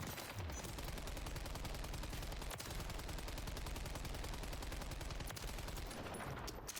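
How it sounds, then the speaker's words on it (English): Hammer light machine gun in Modern Warfare III, a video game, firing a long, unbroken stream of rapid shots that stays steady and fairly quiet throughout. "It has a wind down to it, so it fires the first few shots really fast, and then slows down."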